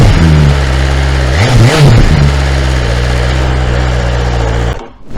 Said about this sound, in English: Let's give it a rev and see what it sounds like